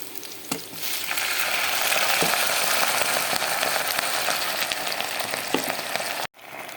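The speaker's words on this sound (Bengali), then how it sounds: "তো হয়ে গেছে আমার পেঁয়াজ ভাজা। আমি এখন হালকা পানি দেব।" Onions browning in oil in a pan as a little water is added, giving a loud, dense, steady sizzle with a few sharp stirring clicks, cut off abruptly near the end.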